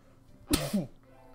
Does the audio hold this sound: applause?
no